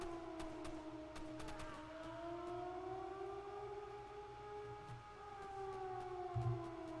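In the game Zompiercer, a long wailing siren rises and falls steadily, with a few faint clicks and thuds underneath; no talking.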